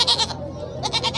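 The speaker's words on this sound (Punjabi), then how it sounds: "ਇਹ ਵੀ ਮਾਸ਼ਾਅੱਲਾ ਤਕਰੀਬਨ ਸਾਰੀਆਂ ਹੀ ਗੱਭਣਾ ਬੱਕਰੀਆਂ ਖਲੋਤੀਆਂ।" Pregnant goats stand at the Hasilpur livestock market, and one bleats loudly and close by. Two wavering bleats are separated by a short pause, and no one talks over them.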